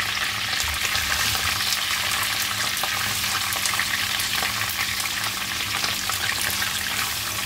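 Marinated chicken frying with damp curry leaves in a pan, a dense, steady, loud sizzle and crackle with occasional stirring, close up and continuous with no one speaking.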